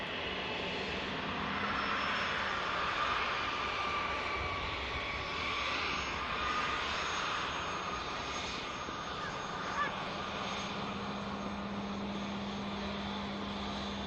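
Juneyao Airlines jet airliner spooling up its engines for departure at Manchester Airport, a broad distant roar with a rising whine and a low steady drone, heard from afar with a crow cawing faintly.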